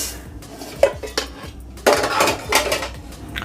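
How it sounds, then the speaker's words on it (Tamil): A metal spoon scrapes and clinks against a pan while roasted fenugreek seeds are lifted out, sharp separate knocks followed by a longer scraping rattle, close up, with no talk. "இப்போ வெந்தயத்தையும் வெளியே எடுத்துடலாம்."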